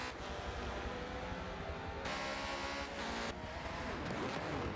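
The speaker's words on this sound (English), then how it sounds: "There is Alonso just coming past the GT there" Porsche race cars sweep past in a sim racing game at Daytona, a loud, continuous engine roar that swells and shifts pitch as the cars go by.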